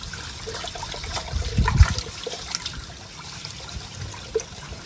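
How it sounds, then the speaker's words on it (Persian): Water pours over rice being washed, a splashing trickle that swells into a brief heavier gush before easing back to a gentle dribble, close and alone. "خب حالا دوباره آبو پر میکنیم روی برنجمون"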